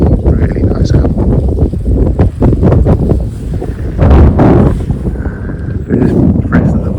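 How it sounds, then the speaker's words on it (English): Wind gusts across a garden allotment plot in late January, buffeting the microphone in loud, uneven rushes that swell and fade over several seconds. "First breath of the wind."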